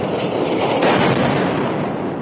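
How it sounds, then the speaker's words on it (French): A dense, loud blast of noise from a huge explosion at a university in Gaza swells suddenly and rumbles on, followed by a sustained roar. "Cette énorme explosion, c'est l'université de Gaza ce matin"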